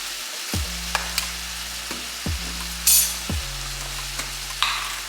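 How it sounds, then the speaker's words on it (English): Ground beef browning in a hot pan, with a steady sizzle and fry running throughout, broken by a few sharp scrapes or clatters of a spoon and a low hum underneath. "So we're going to brown the ground beef"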